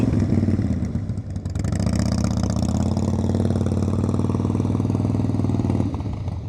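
Motorcycle ridden at slow speed, a steady close engine chugging with clutch work as the revs rise slightly and hold, continuous and loud with no voices.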